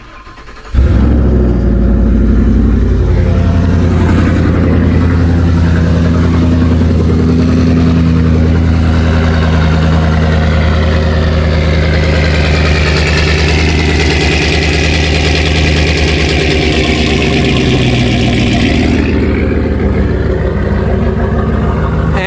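A Ford F150 with a 5.4L V8 fires up abruptly and settles into a loud, steady, close idle with a deep rumble that holds for the rest of the clip.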